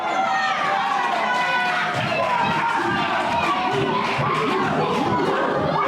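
A lively crowd at a BLW tag team wrestling match in Weymouth cheers and shouts continuously, with excited voices, children's cries and general chatter in a steady wall of noise, a commentator talking over it.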